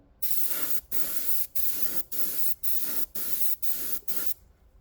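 A paint spray gun sprays a thinned coat for a chrome test, eight even hissing bursts of roughly half a second each, separated by short regular pauses, close and fairly loud with no talk.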